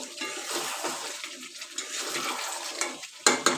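Water is poured into a pan of chicken frying in oil, a brief splash and hiss amid steady kitchen noise, with a louder burst near the end.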